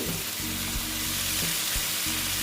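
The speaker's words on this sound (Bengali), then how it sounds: "এখন আমি মোচাগুলো দিয়ে দিচ্ছি" Boiled banana flower sizzling in a hot pan, a steady loud frying hiss with a low rumbling bubble beneath it, continuous and close, no speech.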